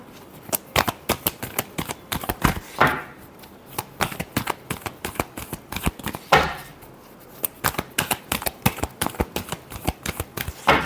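Tarot cards being shuffled in quick crisp riffles and flicks, a dense run of sharp close-up snaps with a couple of longer sweeping riffles, no voice.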